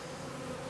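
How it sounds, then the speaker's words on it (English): Honey bees fly around an open hive during swarm-prevention work, giving a continuous close buzzing drone with no pauses throughout. "We still got bees flying around us"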